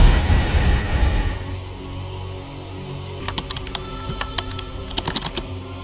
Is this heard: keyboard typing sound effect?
yes